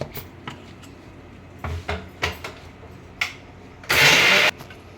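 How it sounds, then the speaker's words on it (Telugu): A kitchen mixer grinder briefly whirs for about half a second, blending fried green chillies and rock salt for a cucumber chutney. Light clinks and taps of utensils come before the loud, short burst. "ఇప్పుడు మిక్సీ పట్టేసుకుందాం"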